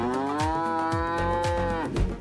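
A cow gives a long, loud, close moo with a rich drawn-out tone that sags in pitch toward the end, heard alone with no voices.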